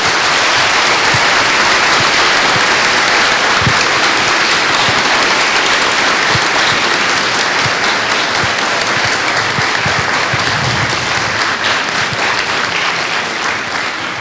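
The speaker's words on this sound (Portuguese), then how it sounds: "eu acho que nós temos que dar uma nova salva de palmas para a professora Chantal pelo esforço que..." Lecture audience at a human rights and pluralism talk gives a long, loud, sustained round of applause, dense and even throughout with no speech over it.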